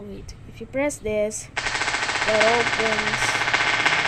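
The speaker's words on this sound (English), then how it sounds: "the minigun thing" A minigun in the video game Melon Sandbox opens up after a moment of talk, a loud, sustained rapid-fire buzz of shots running to the end with a voice continuing over it.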